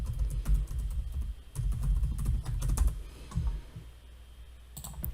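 Rapid clicking of computer keys as an email address is entered, steady runs of keystrokes with brief pauses, close and fairly quiet with no talking.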